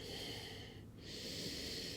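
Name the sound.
breathing in and out during a stretch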